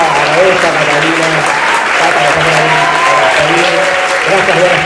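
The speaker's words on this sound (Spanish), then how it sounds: "vamos a pedir un aplauso para toda la gente involucrada" Applause for the people involved fills an indoor event space, loud and close, a dense steady clatter of many hands with a voice speaking over it throughout.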